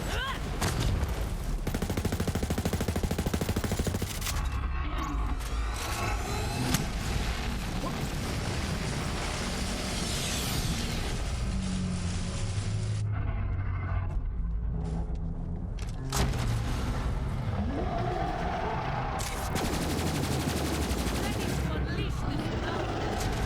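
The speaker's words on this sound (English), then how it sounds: "I'm basically just using the other guns to" Borderlands 3 gunfire from an Amara elemental build crackles in dense, rapid bursts with mechanical clatter across the whole stretch, loud and busy, with brief lulls and someone talking over it.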